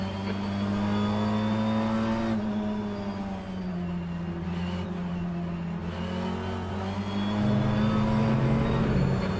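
A BTCC touring car engine droning steadily at high revs around Brands Hatch in the rFactor 2 racing game, loud and continuous with a slight rise in pitch near the end.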